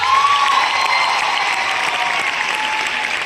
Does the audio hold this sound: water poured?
no